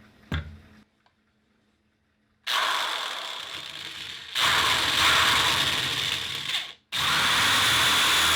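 A 3/8-16 tap threads a hole with cutting oil, giving a loud, grinding mechanical whir in long bursts separated by brief pauses, plus a faint click near the start and no talking.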